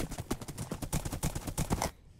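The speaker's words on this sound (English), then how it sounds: "I mean, horse racing, that is really fun." Horse hooves clip-clop in a quick, even rhythm during a Minecraft horse race on the Hypixel party games server, with no talking over them.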